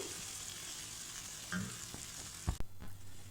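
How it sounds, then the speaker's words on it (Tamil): Chickpea gravy masala frying and being stirred in a pan, a steady soft sizzle with a few spoon scrapes and clinks near the end. "ஆட் பண்ணிவிட்டு இதை நல்லா கலந்து விட்டுக்கலாம் நல்லா மிக்ஸ் மிக்ஸ் ஆகட்டும்"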